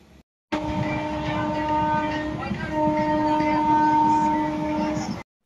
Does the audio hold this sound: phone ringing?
no